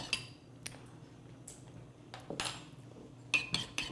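A utensil stirs lemon caper aioli seasoned with salt and pepper in a bowl, giving quiet, irregular scrapes and light clinks against the bowl, with a small cluster of taps near the end.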